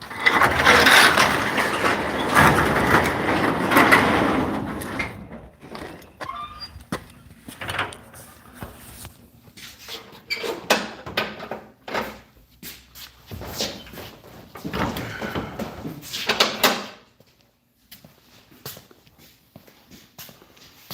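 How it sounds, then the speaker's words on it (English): A door is shut in a garage, producing a long run of metallic rattles, clanks and scraping clatters that come in uneven bursts before falling quiet near the end. "Let me shut this door, y'all."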